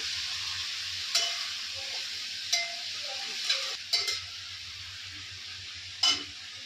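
Chopped safflower greens sautéing in a little oil give off a soft, even sizzle. Five or six sharp metallic scrapes of a spoon stand out at irregular intervals, close and clear, with no speech.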